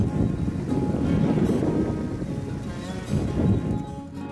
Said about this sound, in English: even on a stormy day like this